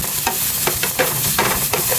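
Garlic and onion sautéing in a pan for adobong sitaw, a steady close sizzle broken by repeated scraping stirs of a utensil against the pan.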